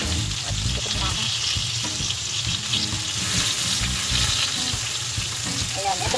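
Dinner frying in a pan: a constant loud sizzle with stirring and clinks up close, and a faint voice now and then.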